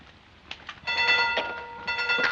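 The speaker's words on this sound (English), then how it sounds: "There's our train." A train pulls into a station with a sudden blast of shrill, whistle-like tones over rattling, clanking rail noise, loud and nearby after a few quieter knocks.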